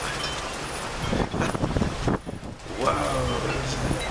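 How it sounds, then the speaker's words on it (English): Strong gusty wind from a sudden storm buffets the microphone in rough surges and roars, with a voice faintly talking under the noise near the end. "Now suddenly it's very windy, stormy."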